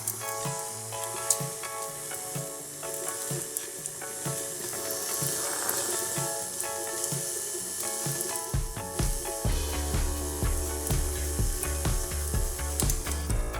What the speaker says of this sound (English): where we are gonna start creaming some butter